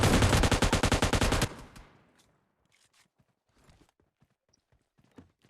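An M249 light machine gun fires a fast, loud burst in PUBG Mobile Lite that lasts about a second and a half, followed by fading echoes and scattered footsteps and small clicks.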